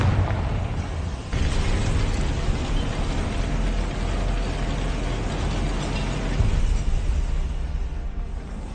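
A Confringo blasting spell in Hogwarts Legacy sets off a rumbling explosion, a sustained, deep, crackling roar with a sharp onset that lingers for several seconds at steady loudness.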